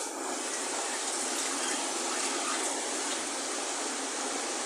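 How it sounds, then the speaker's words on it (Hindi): Water poured into spice masala in a pan for Nargisi aloo kofta, a continuous close rushing hiss with no breaks. "ये हमने आधी कटोरी पानी का डाल दिया है।"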